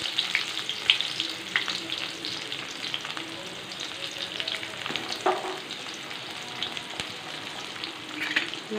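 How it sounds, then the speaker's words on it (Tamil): Continuous sizzling of onions sautéing in oil for egg curry, with occasional crackles and scrapes of stirring, close by and moderately quiet. "வெங்காயத்தை நல்லா வதக்கிக்கலாம்."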